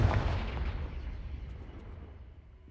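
A Confringo fire spell blast in Hogwarts Legacy, played on Xbox Series X, hits as a single loud, deep fiery boom up close, then rumbles and slowly fades.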